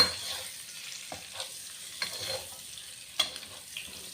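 Eggs frying on a low flame with turmeric and chilli powder make a soft sizzle broken by a few sharp scraping stirs and clinks of a utensil against the pan, quiet and close.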